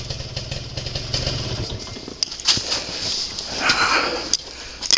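A kick-started moped engine runs in a cluttered garage, its steady low putter at first giving way to a louder, rougher idle with clattering mechanical noise, close by and without voices.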